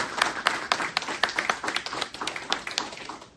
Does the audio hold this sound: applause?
yes